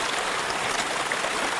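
River water rushing steadily into and through a sluice box on the Susan River, a close, continuous broadband splashing flow with no talk.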